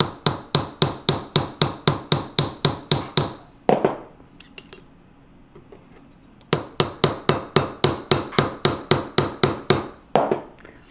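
A small hammer taps steadily on a metal tube rivet to flare it for enameled jewelry work, crisp rapid metallic strikes in two runs separated by a quiet pause with faint handling clinks.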